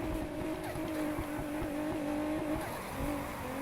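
A Mazda RX7 drifting in Need for Speed Heat gives a steady, loud engine drone with sustained tire squeal, holding close and continuous throughout with no talk.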